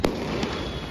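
Big firecrackers and candle fireworks bursting during an Independence Day celebration, two sharp cracks about half a second apart over a continuous outdoor rumble.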